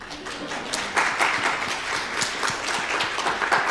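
A wetlands conference audience applauds during a keynote address, a moderate wash of clapping from many hands, fairly even with slight swells, no speech over it.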